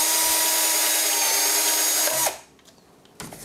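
A power drill bores out a hole one size larger during a BMW M2 Competition differential cooler upgrade, a loud steady whine that stops abruptly, followed by quiet handling noises.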